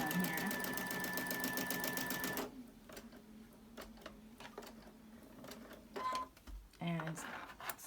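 A sewing machine stitches the edge of a fabric bowl cozy with a steady rapid mechanical whir for a couple of seconds, then stops and leaves soft handling clicks and a few short machine bursts.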